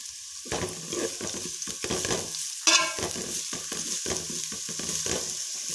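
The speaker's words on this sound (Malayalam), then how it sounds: "നല്ലതുപോലെ ഇളക്കി കൊടുക്കാം." Shredded cabbage for a Sadya-style thoran sizzles in a pan while being stirred, with a spatula scraping and tapping in irregular strokes over the constant frying hiss, close up and without talk.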